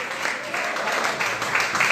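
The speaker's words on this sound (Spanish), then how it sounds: "Dele fuerte ese aplauso al Señor" Church congregation clapping in praise, a full, continuous burst of applause with slight surges in loudness, close and filling the room.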